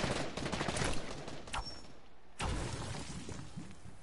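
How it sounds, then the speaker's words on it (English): Gunshots in a PS4 video game crackle in rapid, dense bursts at a moderate distance, with a short lull before the firing resumes. "I think those shots might have been at me, I don't know."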